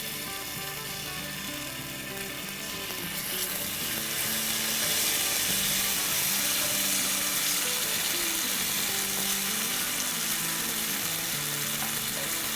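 Garlic paste frying in a tablespoon or two of hot oil for a lauki sabzi, a steady loud sizzle and crackle that swells after a few seconds and holds, with faint stirring scrapes and no talk.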